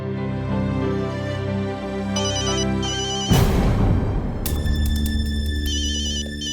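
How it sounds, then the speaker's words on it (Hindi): A phone ringtone plays a looping electronic melody, then a burst of noise cuts in before a brighter, beeping ringtone pattern continues. "क्या बे अमर, तेरी मम्मी तुझे हर समय कॉल करती रहती हैं।"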